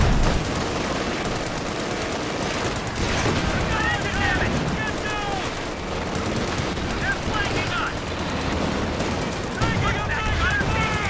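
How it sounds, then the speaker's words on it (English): White phosphorus barrage hitting an AT gun in a war strategy video game, dense rolling bursts and crackling impacts over a steady battlefield roar, with a commentator talking throughout. "White phosphorus being dropped on the AT gun in case of recovery"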